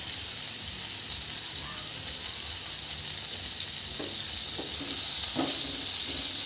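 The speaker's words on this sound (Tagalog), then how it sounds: "natunaw na po yung margarine sa kawali" Margarine melts in a frying pan with a steady bright sizzle and hiss, and a few faint clinks or stirring taps toward the end; no voices.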